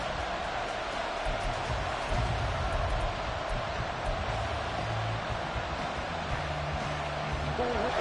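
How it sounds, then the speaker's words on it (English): Football stadium crowd during a 3rd-and-long play, a dense continuous roar filling the space, steady and loud, with a commentator's voice running over it. "This crowd turning up the decibel level."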